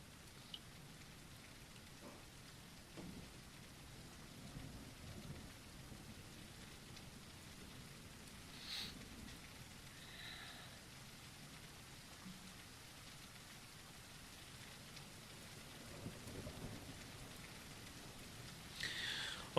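Steady rain hisses through a storm in the dinosaur survival game The Isle. A few soft, distant thunder rumbles and scattered drop patters sit under the even wash, and there is no speech.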